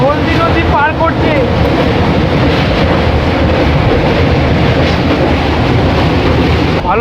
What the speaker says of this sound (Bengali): রাতের অন্ধকারে ট্রেন হলদি নদী পার করছে